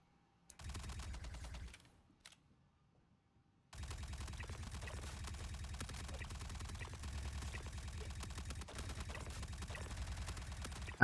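Rapid automatic fire from an upgraded gun in Star Citizen, a short burst, a brief pause, then a long sustained stream of fast, evenly spaced shots at moderate level.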